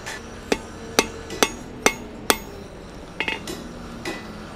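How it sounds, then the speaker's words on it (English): A hammer forging a steel leaf on an anvil, five evenly spaced sharp ringing strikes, then a quicker cluster of lighter taps, close and loud with no talking. "just hammering down."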